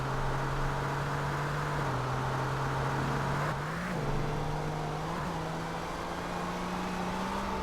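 A car engine in GTA San Andreas drones steadily under acceleration, holding a constant loud hum with small pitch shifts as the revs rise and dip, no voices over it.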